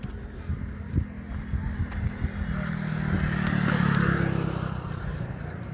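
A motorcycle ridden along a road in Bidar district toward a forest area gives a steady, close engine drone with road clatter, swelling slightly louder midway, then settling; no talk over it.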